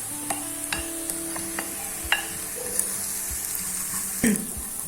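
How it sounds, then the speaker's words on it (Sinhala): Onions fry in oil with dried sprats and Maldive fish for a homemade chilli paste, a soft steady sizzle punctuated by sharp clicks and scrapes of a spoon stirring against the pan. "ලුණු ටික මේ වගේ රන්වන් පාට වෙනකම් වැඩිගෙන එනකොට අපි මේකට එකතු කරගමු අපි කුණිසු ටික සහ උඹලකඩ ටික"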